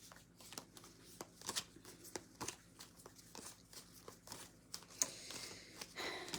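A deck of cards is shuffled over and over, with quiet rhythmic riffling bursts and soft flutters at a close distance and no talk.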